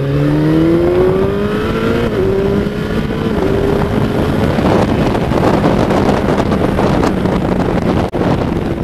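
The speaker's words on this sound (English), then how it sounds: "With these Akapovics, the bike sounds absolutely brilliant." Kawasaki ZZR1400 motorcycle fitted with Akrapovic exhausts riding at speed, engine note rising steadily through the gears under heavy, constant wind rush across the microphone.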